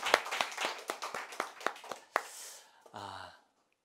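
A church congregation at a Sunday worship service claps in a slow, even rhythm of about a dozen distinct claps. The claps fade out, a short breathy sound follows, and then a brief voice is heard before silence.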